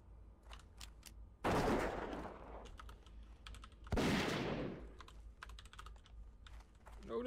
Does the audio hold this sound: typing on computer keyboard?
yes